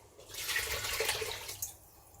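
Tap water running into a pot as it is rinsed out in a home kitchen while cooking Nigerian jollof, a steady close splashing wash lasting a couple of seconds with no talk.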